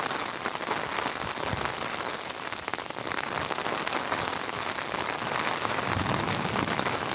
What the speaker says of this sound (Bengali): অজরে বৃষ্টি পড়ে সুরমা নদীর পানির উপরে।